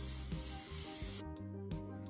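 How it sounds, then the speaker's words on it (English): A hand spray bottle mists water across the tops of unbaked hot cross buns, a brief close hiss or two over a background music track. "Now I'm just gonna give them a quick little spray across the top,"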